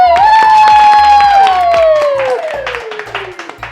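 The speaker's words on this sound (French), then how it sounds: "Et on les applaudit!" An audience on a French game show applauds and cheers, steady clapping that fades over a few seconds while a loud, sliding synthesized musical sting plays over it.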